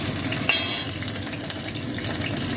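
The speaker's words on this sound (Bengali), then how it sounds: "এই ভাজার তেলেতেই আমি জিরে ফোড়ন দিলাম, আর এই তেজপাতাটা ফোড়ন দিলাম" Cumin seeds and a bay leaf sizzle in the hot oil left from frying pointed gourd, with a close, steady crackling hiss and a brief sharper burst near the start. No one speaks.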